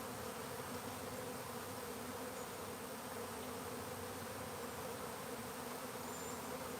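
A box of freshly scooped bees hums inside, a dense, continuous buzzing that holds steady and fairly quiet throughout, with no voices over it.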